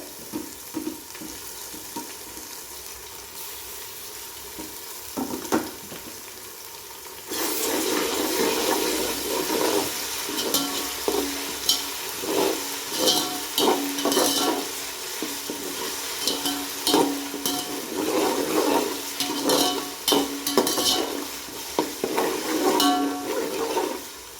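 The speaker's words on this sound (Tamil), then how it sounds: "வெங்காயம் வதக்கிச்சு ஃப்ரெண்ட்ஸ். இப்போ வந்து இஞ்சி பூண்டு பேஸ்ட்டு போட்டுக்கலாம்." Onions and ginger-garlic paste sizzle and fry in hot oil for a vegetable kuska, quiet at first and then a louder, steady crackle with repeated stirring scrapes, no voices.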